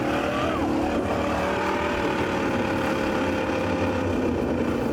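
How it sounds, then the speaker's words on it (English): A V8-engined off-road vehicle labours over an obstacle, its engine droning loud and close at steady high revs throughout without pause. "With his right foot planted and the V8 engine chomping at the bit,"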